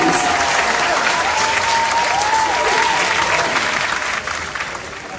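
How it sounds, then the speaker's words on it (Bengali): Sustained audience applause at an awards ceremony in Kolkata, dense clapping from a large crowd that holds steady then eases slightly, with faint voices murmuring underneath. "আমার একবার জোরে হাততালি হয়ে যাক প্লিজ"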